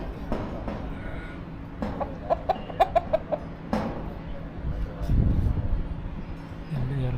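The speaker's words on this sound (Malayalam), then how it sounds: "കോഴി" Chickens cluck in short sharp bursts at a livestock market where goats and camels are sold for meat, with someone talking nearby and other market noise around.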